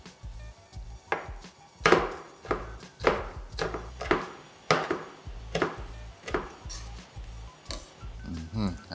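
A knife chops through a hot pepper on a cutting board in a kitchen, a run of about a dozen steady knocks with soft squishy cuts under ongoing background noise.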